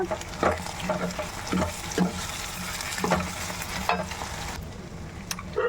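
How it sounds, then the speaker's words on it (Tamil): Mutton varuval frying after salt goes in, a dense close sizzle with rhythmic scraping stirs of a ladle through the thick meat in the pan. "லாஸ்ட்டாக உப்பு போட்டுட்டு அதுக்கப்புறம் கிளறுங்க"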